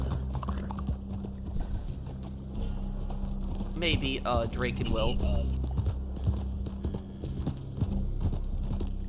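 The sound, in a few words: horse hooves clip-clopping in the video game Red Dead Online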